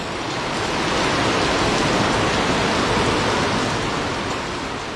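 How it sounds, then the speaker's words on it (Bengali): Heavy rain drums on a tin roof during a sudden downpour, heard from a veranda near a pond; a loud, steady, unbroken roar with no voices. "বহুদিন পর টিনের চালে বৃষ্টির এমন শব্দ শুনে মনটা কেমন যেন স্মৃতিকাতর হয়ে গেল।"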